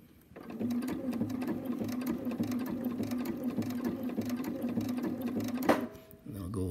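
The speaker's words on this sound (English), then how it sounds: "we'll go with the reverse stitch, the first centimeter, and I'll hold the two tails" A sewing machine runs a rapid, even stitching burst for about five seconds while sewing on a jig for paragliding gear, starting with a reverse stitch and stopping abruptly, with a voice talking over it.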